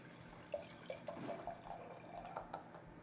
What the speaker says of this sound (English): I'm going to pour you a glass